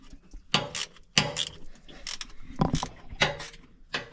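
A wrench ratchets and clicks while loosening a nut, giving a series of short, close metallic clacks in an uneven rhythm.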